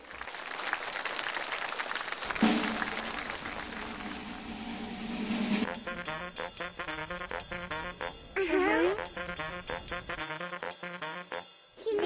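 Applause from a Spring Festival Gala television audience rises as a broad wash of clapping for a few seconds, then gives way to loud music.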